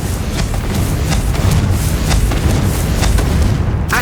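A Confringo fire spell blast in Hogwarts Legacy: a loud, rumbling explosive boom that stays heavy and sustained from start to finish, with no talking.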